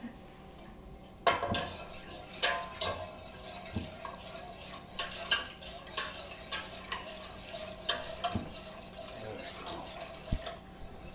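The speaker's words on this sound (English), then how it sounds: "I'm going to put that in as you stir" Mac and cheese sauce stirred in a pot as more is poured in, with repeated scraping clinks of a utensil against the pan in an irregular rhythm, close and moderately loud, under light kitchen background and occasional talk.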